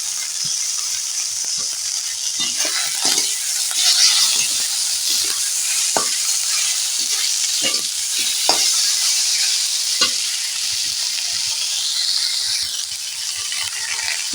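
Chopped tomatoes added to fried mango in a pan for a rohu fish curry, a loud, continuous hissing sizzle with intermittent metal spatula scrapes and taps, no speech.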